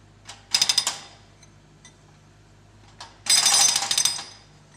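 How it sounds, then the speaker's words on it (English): Hydraulic breaker on a digger arm hammering pavement into small pieces: two loud bursts of rapid pounding, a short one near the start and a longer stretch later, with quieter gaps between. "In the digger cabin, a man controls the digger arm and breaker."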